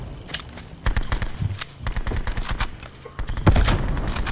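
Bursts of gunfire in a Call of Duty match, with sharp automatic volleys that start and stop irregularly, loud and close, with a heavier flurry of shots near the end.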